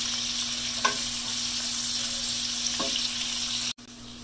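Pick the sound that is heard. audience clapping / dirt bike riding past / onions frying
onions frying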